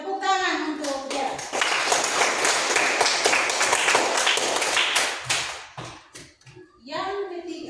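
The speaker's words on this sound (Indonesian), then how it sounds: "Tepuk tangan untuk dia." Classmates in an eighth-grade Indonesian-language lesson clap together for a student for about five seconds, dense and steady, after which the clapping trails off and a voice is heard speaking.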